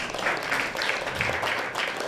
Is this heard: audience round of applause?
yes